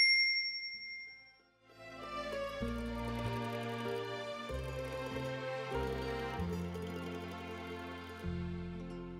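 A bright bell dings once at the start, ringing out briefly before a low, sustained musical tone takes over.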